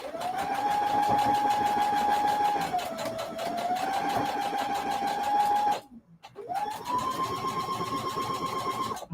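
A sewing machine stitches through small pieces of quilt fabric, a steady close motor whir that runs continuously, dips briefly to silence and then resumes at a slightly higher pitch.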